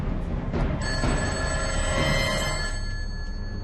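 An indoor telephone rings unanswered, its steady electronic ring sustained over a dense, constant background of low noise, with no talk.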